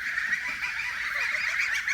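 A flock of geese on a farm honks continuously and loudly, overlapping nasal calls forming a dense, noisy chorus close by.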